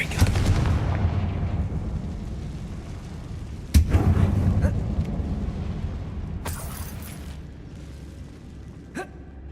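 Confringo fire spell cast in the Hogwarts Legacy video game inside a closed mine tomb: a deep rumbling blast opens, then a sharp explosive crack and debris rumble follow midway, with scattered lighter impacts as it fades.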